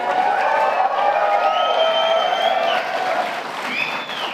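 At a White House Tribal Nations Summit, an audience claps and cheers, with dense applause and rising whoops and shouts over it for a few seconds.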